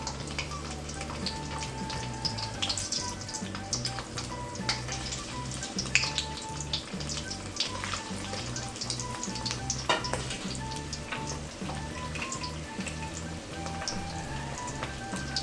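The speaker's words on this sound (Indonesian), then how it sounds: "Dan ini adalah proses menggoreng potongan dari urutan babi itu yang sudah matang" Crispy pork sausage pieces, already cooked, frying in hot oil, a steady dense crackle and sizzle with scattered sharper pops throughout, close up and with no voices.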